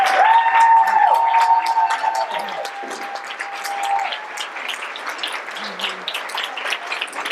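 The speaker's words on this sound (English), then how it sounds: "can all of the members please applaud your new community?" Members of a gathering applaud newly standing community members, a lively burst of clapping with scattered cheers and a high whistle-like tone early on, gradually thinning.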